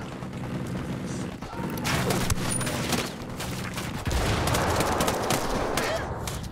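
Rapid, dense gunfire from automatic weapons in the video game Ghost Recon Wildlands during a firefight defending a rebel hospital, sustained bursts and crackling shots with voices talking over the shooting.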